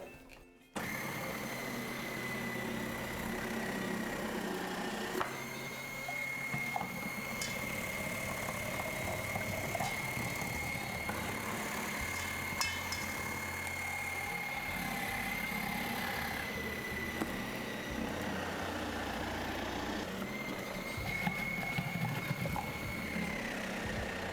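A kitchen food processor grates potatoes for potato pancakes in a loud, steady motor whir that runs unbroken for over twenty seconds with small shifts in pitch, close and with no talking.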